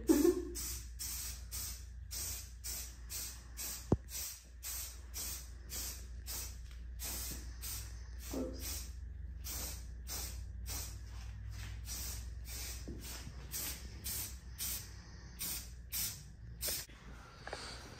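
Rust-Oleum 2x flat gray primer sprayed onto an LS400 big brake kit from an aerosol can, heard as a long run of short, close hissing bursts in a steady rhythm.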